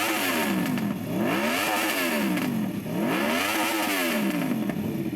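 Motorcycle engine revving hard on a track day, loud and close, with repeated rising and falling pitch sweeps as it accelerates and shifts through gears for several cycles.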